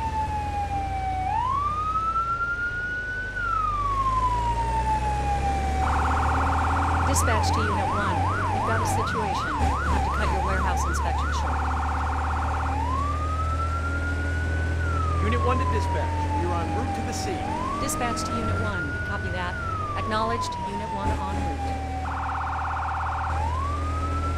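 In a firefighting simulator video game, several blaring fire truck air horn blasts sound over a rising and falling emergency siren and a low engine rumble, all loud and close.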